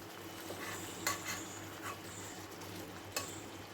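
Raw marinated pieces of large fish such as katla go into a pan one by one and are gently stirred, making faint sizzling with a few soft clinks of a utensil.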